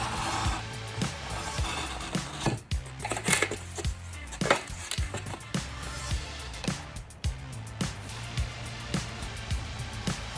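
An X-Acto knife slicing folded paper along its crease for a New Year's wreath craft, heard as a series of crisp, close scraping cuts and small taps over a soft, steady background hum.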